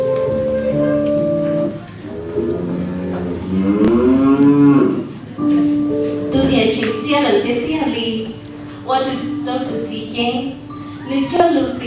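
Cattle mooing at a Hmong New Year celebration, several long drawn-out moos in succession, loud and close, with some voices mixed in.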